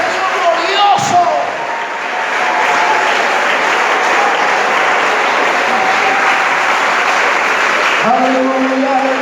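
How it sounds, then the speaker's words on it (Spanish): A church congregation applauds during a Spanish-language worship service, steady loud clapping framed by brief tonal voice sounds and a sharp knock near the start. "alguien que quiera aplaudir su presencia"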